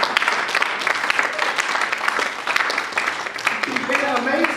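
An audience at a church-style training event claps steadily and loudly for several seconds, a dense continuous wash of hand claps with scattered voices and cheers underneath.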